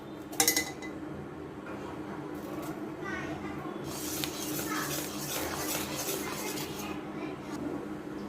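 A spoon clinks and scrapes against a bowl while mango milk is stirred after two spoons of sugar are added, with light metallic taps and steady clattering up close and a voice talking over it.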